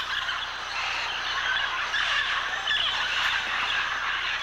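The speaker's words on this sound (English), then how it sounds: "thousands of blue-headed and Amazon parrots and small macaws congregate at a few remote cliffs of clay" Blue-headed parrots, Amazon parrots and small macaws gather by the thousands at remote clay cliffs, a dense, continuous chorus of raucous squawks and calls that stays steady and fairly loud throughout.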